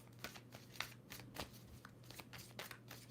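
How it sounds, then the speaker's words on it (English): Tarot cards are shuffled repeatedly in quick, papery riffles, close and fairly quiet, with a steady low hum behind. "2 more shuffles for Taurus."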